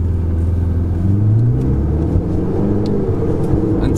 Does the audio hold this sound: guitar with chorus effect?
no